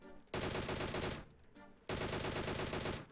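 Two bursts of rapid automatic gunfire in PUBG Mobile, each about a second or more long, dense and loud with a short pause between them.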